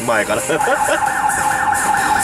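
Japanese police car siren wailing continuously and loud, its rising and falling tone steady throughout, with someone talking over it at the start.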